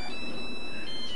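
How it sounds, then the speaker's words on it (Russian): A mobile phone ringtone plays steadily and fairly loud through the whole short moment, a sustained electronic tone over a noisy home room background with no talk. "У вас, мне кажется, телефон."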